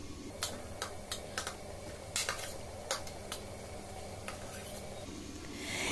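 Fried potatoes go into a pan of cooked-down spice mix, giving close clattering scrapes and clinks of a utensil against the pan in an irregular rhythm over a steady background hiss.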